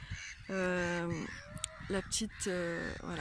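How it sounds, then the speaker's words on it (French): Seagulls call on a beach at Porspoder in Finistère, loud harsh nasal cries in short bursts nearby, with a person speaking briefly between them. "Il y a une petite discussion entre les mouettes là-bas."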